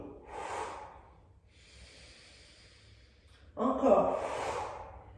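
Breaths during a bodyweight exercise session: a breathy exhale, a quiet stretch, then a deep, audible inhalation near the end, close to the microphone.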